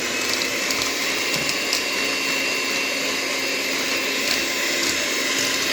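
An electric mixer whips eggs and sugar for a rolled sponge cake, a continuous loud whirring drone with a steady even tone, close by and uninterrupted, with no talking.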